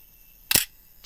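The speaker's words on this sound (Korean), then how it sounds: "요거는 이제 우리 타이머 셀카 찍거나 할 때 일정 부분 지나간 다음에 시간 가는 거 보이죠?" A Nikon FM2 manual film camera fires its shutter at the end of a self-timer run, one short crisp mechanical click alone against near silence.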